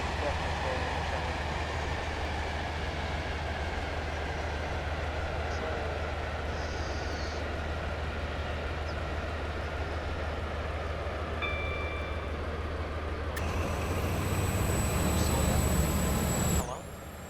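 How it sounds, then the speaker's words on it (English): A train in Stepford County Railway rumbles along the rails in a steady, continuous drone, with faint tonal whines and clicks rising near the end before it cuts off. "But we are definitely trailing a train."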